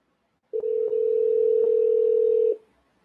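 A single steady telephone dial tone sounds for about two seconds, then cuts off, clean and loud with nothing else around it.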